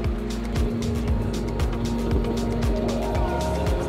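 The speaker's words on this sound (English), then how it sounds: "Back on a bus." Tour bus rolling along a bumpy mountain road, a steady engine and road rumble with repeated low thumps and jolts as the wheels hit bumps, continuous and close throughout.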